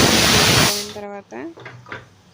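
Steam hisses loudly from a pressure cooker after cooking a curry, a strong rushing burst that cuts off abruptly and gives way to brief clattering noises.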